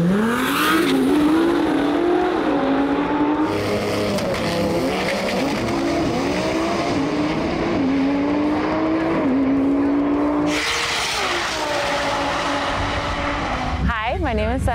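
Nissan R35 GT-R race cars compete at TX2K 2023, with loud, close engines revving and shifting through rising gear sweeps, tire squeal and cars passing, mixed with a voice over the racket.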